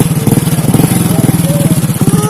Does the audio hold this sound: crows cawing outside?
no